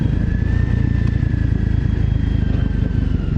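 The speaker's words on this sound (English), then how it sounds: "I'm on a scrambler." Scrambler motorcycle engine running steadily on a dusty road, a loud, continuous low rumble with a constant drone that holds level throughout.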